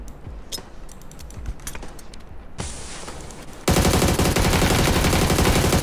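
Gunfire in the battle royale game PUBG: a handful of sharp shots in quick succession, then a loud continuous burst of rapid automatic fire that fills the final seconds.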